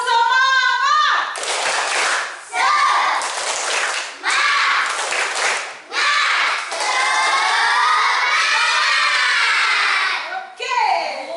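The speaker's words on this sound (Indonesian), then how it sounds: "Tepuk semangat." A class of fourth-grade schoolchildren performs a rhythmic spirit clap, bursts of unison clapping alternating with shouted chanting voices, loud and close, repeating in several short rounds.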